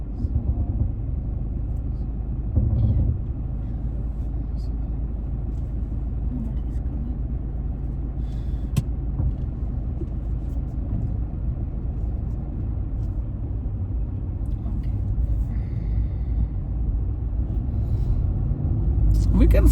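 During a driving lesson, a car moves off with a steady low engine and road rumble throughout, while an instructor and learner talk over it inside the cabin.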